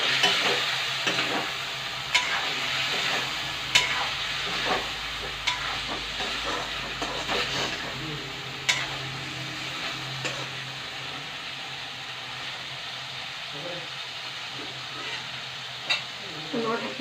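Local chicken with capsicum frying in a pan, stirred with repeated scrapes and clacks of a spatula over a continuous sizzle, close and fairly loud, no voices.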